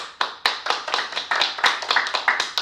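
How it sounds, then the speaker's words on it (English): A small group of guests clap their hands in a short, sparse round of applause, with distinct individual claps close to the microphone. "I want to give a round of applause for everybody that showed up for me today."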